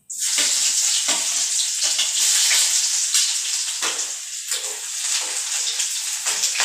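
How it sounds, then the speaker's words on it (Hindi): Garlic frying in hot tempering oil with carom seeds gives a steady, loud hiss and crackle of sizzling with bursts of spattering throughout, close up and without talk. "और अब मैं इसमें डाल दूंगी लहसुन,"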